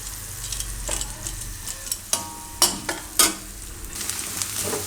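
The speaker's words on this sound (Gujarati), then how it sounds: "આમાં આપણે હવે ડુંગળી નાખી દેવું ડુંગળી થોડીક વાર ચડવા દેવું વચ્ચે વચ્ચે હલાવતા રહેવું" Onions sizzle steadily in hot oil in a pan for a Gujarati madhpudo shaak, with a spoon stirring and clinking against the pan in several sharp taps. Close and clear, with no voices.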